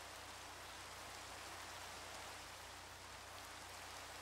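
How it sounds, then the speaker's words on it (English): Steady rainfall in the Minecraft video game, an even, dense hiss of falling drops that holds constant throughout with no voices over it. "Oh no, it's raining."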